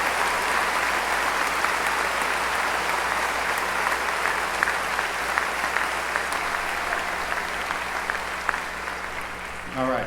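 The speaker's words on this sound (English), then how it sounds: "Please join me in giving them one last round of applause." Graduation audience giving a final round of applause, a long, loud, steady roar of clapping from many hands that holds for ten seconds and thins slightly at the end.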